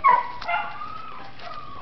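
A big dog gives a short, close bark or yip at the very start, then whines and whimpers faintly through the rest, tied out at a kennel with no talk heard.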